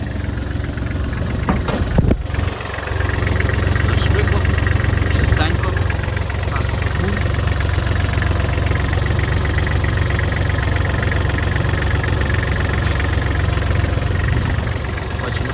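A Kubota GL-21 Japanese mini tractor sits idling nearby, its diesel engine knocking in a steady loud rumble that runs throughout while someone talks over it.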